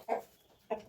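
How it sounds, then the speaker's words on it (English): Brown hens clucking in a homestead coop in northern Spain, two short bursts of close, moderately loud clucks separated by a quiet pause. "we've got 3 brown hens"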